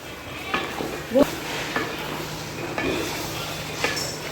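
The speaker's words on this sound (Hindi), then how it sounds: "अब इसको अच्छी तरह भूनूंगी, मसाला डाल दिया और स्पाइस भी डाल दी है और मैं इसको अच्छी तरह भूनूंगी।" Masala with spices frying and being stirred in a pan for a desi lunch: a steady low sizzle with a few sharp spoon scrapes and clinks against the pot, close and moderately loud, with no talking.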